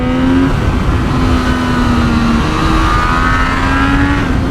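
A 2024 Triumph Street Triple 765 RS motorcycle pulls hard at wide-open throttle on a racetrack, its engine note steady and loud with a rising tone and a brief dip as it shifts, close to the mic throughout.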